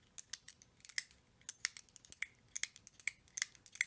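A fidget slider insert with three click positions snaps back and forth in quick, crisp, close clicks, irregularly paced in bursts with tiny pauses between them.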